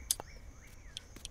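Faint, short bird chirps in the video game Dinkum, a few quick high tweets spaced apart over quiet game ambience, with no talking.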